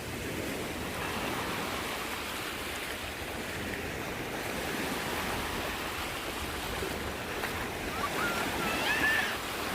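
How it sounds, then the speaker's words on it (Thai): Steady broadband rush of churning water, like waves surging continuously in an artificial freshwater wave pool at Siam Amazing Park, Bangkok, loud and close with no talking. "เป็นทะเลน้ำจืดแล้วก็มีคลื่นยักษ์อะไรต่างๆ ที่เขา สร้างขึ้นมา ด้วยฝีมือมนุษย์นะคะ"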